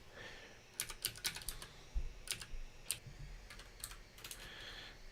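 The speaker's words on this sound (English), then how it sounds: "I can't type." Someone types on a computer keyboard while setting up an Arduino project. Quick bursts of light, close clicks are separated by short pauses against a quiet room.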